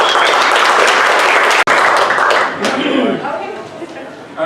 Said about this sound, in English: if we could just give a round of applause to Andy Kahan